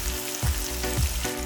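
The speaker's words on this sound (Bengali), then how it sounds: "তেলটা ভালো করে গরম হয়ে গেলে তাতে গরুর মাংসের স্লাইসগুলো দিয়ে দিব।" Beef slices frying in hot oil for a Bangladeshi beef chaap masala, a loud, close sizzle with a few soft low thumps as the pieces shift in the pan.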